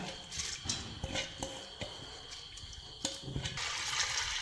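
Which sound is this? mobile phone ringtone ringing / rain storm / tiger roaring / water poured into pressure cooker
water poured into pressure cooker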